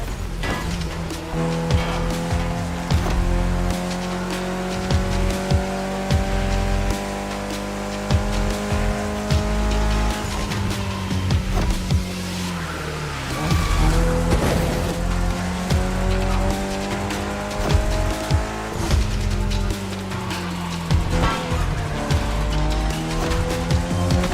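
Mitsubishi Evo X driven hard around a lap, engine revving up and down through gears with repeated tire squeals, heard close from inside the car without talk.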